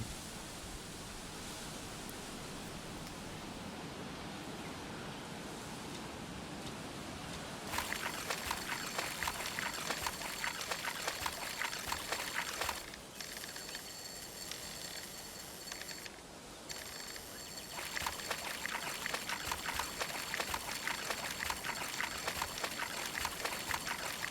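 A forest river flows in the video game Coral Island, a steady broadband rush of water that grows louder and brighter partway through, with brief dips.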